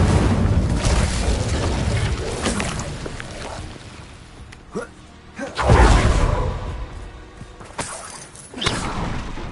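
Incendio fire spells cast in Hogwarts Legacy roar out as loud whooshing bursts and deep booms, several in succession with brief lulls between, over constant combat noise and an occasional voice.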